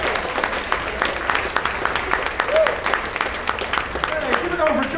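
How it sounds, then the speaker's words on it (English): A comedy club crowd applauds a comedian's entrance, a lively burst of clapping with whoops and whistles that rises and falls over five seconds while voices call out over it. "Put your hands together, whistle if you can."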